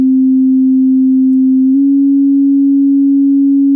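A pure, high-pitched sine wave synth note from FL Studio holds steady and loud, then steps up slightly in pitch partway through and sustains alone to the end.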